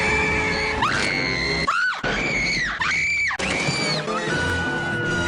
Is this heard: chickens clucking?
no